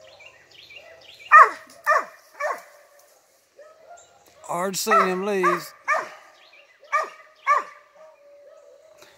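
A Cur dog barks at a squirrel in leafy woods, with several sharp close barks, a whimpering yelp in the middle and more spaced barks after, while someone talks between them.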